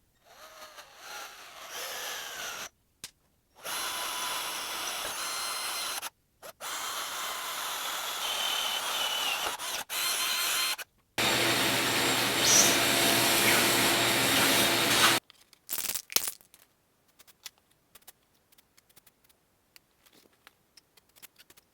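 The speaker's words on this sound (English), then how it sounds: "I'm going to use a 1/4-inch drill bit" A power drill fitted with a 1/4-inch bit bores mounting holes for a basket on an e-bike, running in several loud, steady bursts of whirring separated by pauses, then giving way to quieter handling clatter.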